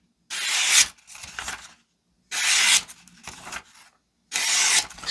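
A 3.8-inch paring knife slices through a ribeye roast in three separate strokes, each a loud, close, rasping scrape that stops sharply before the next.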